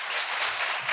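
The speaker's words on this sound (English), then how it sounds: "Give yourselves a round of applause" A roomful of women applauding at a youth empowerment and personal development event, a dense, steady wash of clapping across the whole second with no voices over it.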